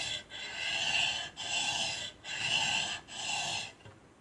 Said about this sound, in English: with the wheel on here, I can sharpen this guy up and get that edge polished